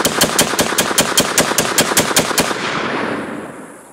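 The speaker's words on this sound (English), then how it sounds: "Semi-rapid fire." Semi-rapid gunfire aimed at AR500 steel ballistic plates, about a dozen sharp, evenly spaced loud shots at a quick cadence, followed by a fading ring and a brief quiet tail.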